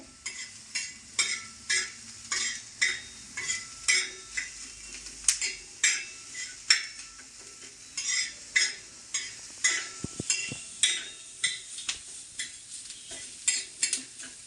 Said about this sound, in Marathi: आपला इकडे कांदा पण भाजणं चालू आहे